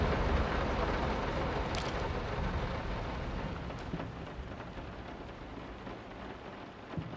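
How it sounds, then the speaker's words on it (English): Heavy rain pours in the horror video game Layers of Fear, a dense, steady hiss that slowly fades a little, with a faint distant rumble beneath it. "This rain is too loud."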